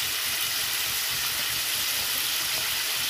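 Cauliflower florets and potato pieces fry together in hot oil with green chillies, a dense continuous sizzle and hiss close by, steady and loud without pause.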